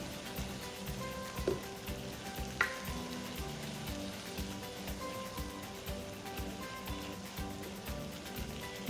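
Garlic frying in a pan while making shrimp Alfredo sizzles continuously at a soft, even level, with a few light clinks of stirring.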